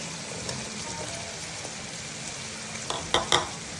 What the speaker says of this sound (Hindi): शिमला मिर्च को हमने सिर्फ 1 मिनट के लिए फ्राई करना है।